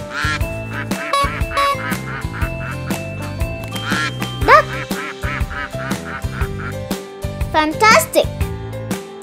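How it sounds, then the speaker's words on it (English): Cartoonish duck quacks sound among bouncy children's music, with a voice speaking over it throughout. "Duck, duck, duck."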